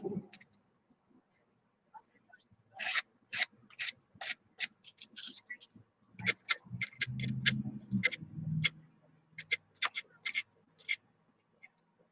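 A nail file rubs across a wooden cross in short, dry scraping strokes, arriving in irregular bursts separated by quiet gaps, close and fairly soft, with a faint voice murmuring beneath part of it.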